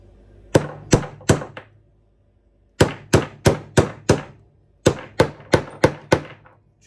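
Dana 18 transfer case seal being tapped into its bore with a driver: three sharp close metallic knocks, a pause, five more, then another run of five, each ringing briefly and evenly spaced, with no talking.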